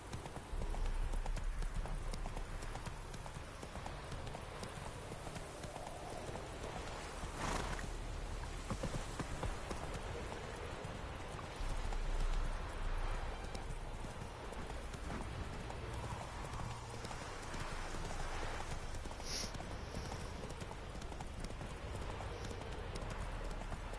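Horse Roach's hooves clip-clop steadily through The Witcher 3, a continuous even gait over faint ambient background, with no voices.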